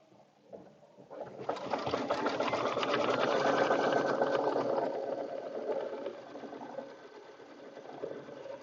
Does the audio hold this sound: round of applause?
no